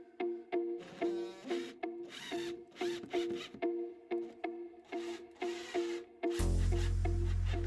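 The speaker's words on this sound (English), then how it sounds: "I am also pre-drilling holes for the legs." A power drill pre-drills holes in thick workbench leg pieces in a run of short, rhythmic whirring bursts, close and fairly loud, ending in a heavier steady rumble.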